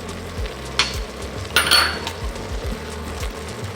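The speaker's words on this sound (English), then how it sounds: "I'm just gonna add in the garlic and let that start to" Garlic sautéing in a pot for leek and potato soup, a soft, steady sizzle broken by a few sharp clinks of a utensil against the pot.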